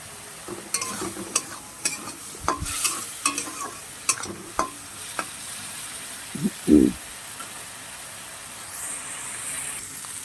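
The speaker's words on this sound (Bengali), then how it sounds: "সুন্দরভাবে ভেজে নিতে হবে চিংড়ি মাছগুলো।" Shrimp frying in a pan give a steady soft sizzle, broken by repeated sharp scrapes and clicks of a spatula stirring them at close range.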